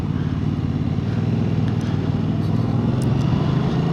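A Yamaha MT-07 motorcycle is ridden at steady speed, its engine drone and wind rush continuous and close, without distinct gear-change breaks.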